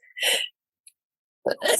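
A single sharp sneeze, close and loud, followed by a quick breath and a brief exhale.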